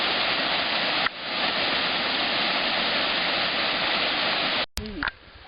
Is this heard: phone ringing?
no